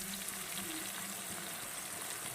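Steady sizzle of food frying in a pan for an egg, potato and soybean curry with chilli, a dense continuous crackle heard close up with no talking.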